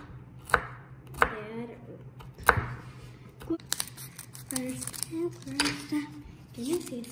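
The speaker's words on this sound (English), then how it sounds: "It's hard to cut walnuts," Walnuts chopped with a knife on a board while making chocolate momos at home, several sharp close thuds followed by lighter irregular cuts, with faint voices in the background.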